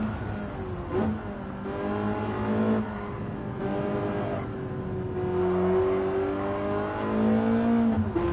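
Engine of a favourite car in the Gran Turismo 7 racing game, revving and shifting through gears with rising and falling pitch, steady and close throughout, no talking.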